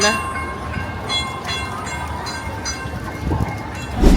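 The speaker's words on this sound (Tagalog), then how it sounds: "Ayun na yung tren." A train rumbles into a Beijing station at night with metallic screeching tones and a steady rolling clatter, fairly loud, with voices in the background.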